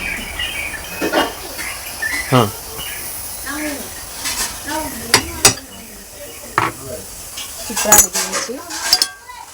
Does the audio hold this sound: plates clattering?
yes